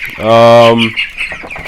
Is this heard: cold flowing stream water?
no